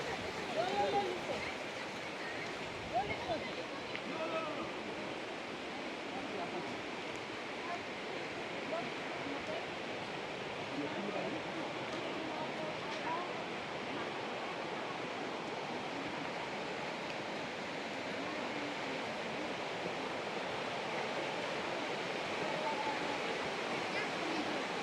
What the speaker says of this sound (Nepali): खोलाको रहेछ कि यहाँ नजिकै स्वाहा बगिरहेछ सुन्नुभयो होला खोला